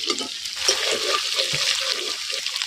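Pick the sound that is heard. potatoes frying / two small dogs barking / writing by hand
potatoes frying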